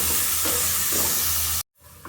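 Turmeric frying in a pan as it is stirred, a steady broadband sizzle with soft scraping strokes, close and fairly loud, cutting off abruptly near the end before faint room noise returns.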